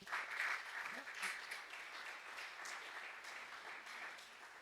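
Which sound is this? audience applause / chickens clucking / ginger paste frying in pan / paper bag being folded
audience applause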